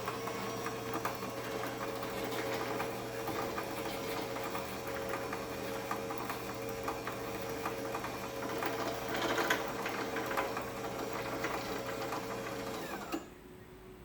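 A Genie OHD 2026 garage door opener runs on a Sears T-rail, giving a steady close mechanical hum and rattle of the drive that continues at an even level, then cuts off abruptly near the end.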